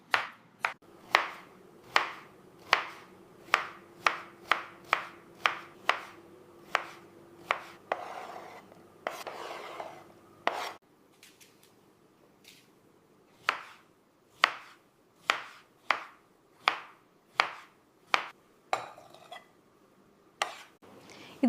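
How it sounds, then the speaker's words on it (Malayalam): A knife chops grapes very finely for a fruit salad, giving a long run of crisp, evenly spaced taps on a cutting board. The strokes are close and clear, with a brief pause partway through before the steady chopping resumes. "ഞാൻ ഈ മുന്തിരി വളരെ ചെറുതായി അരിയണോ?"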